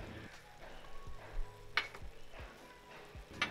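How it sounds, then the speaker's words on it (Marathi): Ground masala paste sautéing in oil in a pan, a soft steady sizzle with occasional stirring scrapes and a couple of sharp ticks, fairly quiet and close. "हे वाटण छान तेल सुटेपर्यंत परतून घ्यायचं आहे"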